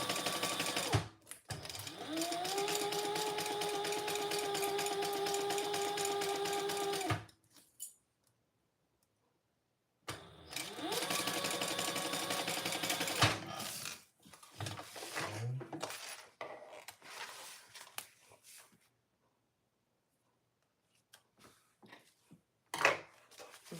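A sewing machine stitches fabric in two bursts of rapid, steady mechanical whirring with a rising motor tone, each ending abruptly, followed by quiet handling clicks and a brief clack.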